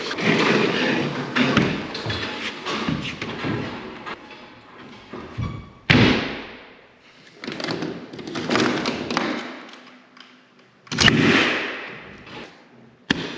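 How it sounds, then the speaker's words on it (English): A nail gun fires into OSB ceiling sheets on a tall rustic ceiling, giving a few sharp, loud, close thumps spaced apart among handling and shuffling noise. "The nail gun's super loud."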